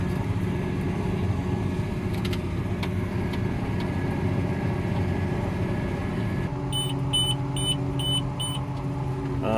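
A tractor with a CVT transmission runs at a steady engine drone, near and constant, while electronic beeps chirp in a repeating pattern in the second half.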